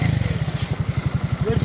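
A Skydrive fuel-injected motorcycle, back running after a failed relay was swapped, idles steadily with a rapid, even low putter throughout, close by.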